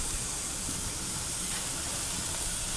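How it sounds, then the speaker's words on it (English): Marinated beef with lime sizzles steadily on a grill, a continuous close hiss of spattering fat and juices with no pauses and no voices. "Oh, you hear that sizzling?"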